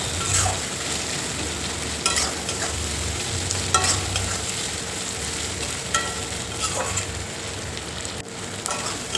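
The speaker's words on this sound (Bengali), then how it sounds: "আর এই যে পেঁয়াজটা দেখো অনেকটাই নরম হয়ে গেছে, আর একটু ভাজা ভাজা হবে" Onions fry in a pan for a prawn curry, a steady close sizzle and crackle broken by repeated scraping stirs of a spatula at irregular intervals, with no voices.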